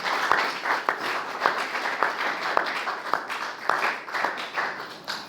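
A church congregation applauding together, a dense, steady patter of many hands with sharper rhythmic claps marking a regular beat, fairly close and with no talking.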